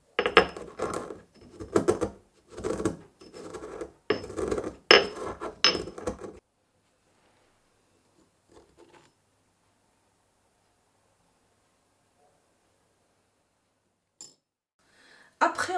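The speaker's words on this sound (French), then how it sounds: "Je prends mon mortier et je vais piler la gomme arabique avec la demi-cuillère de sel et une cuillère à café de sucre fin" Gum arabic pounded in a mortar with salt and fine sugar while making Moroccan sellou: about six seconds of close, steady rhythmic thuds and knocks, then near silence broken by a few faint taps.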